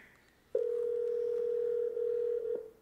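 A telephone line tone sounds while someone calls Uncle Wayne: a faint hum, then a loud steady single tone that holds for about two seconds with slight wavers before cutting off.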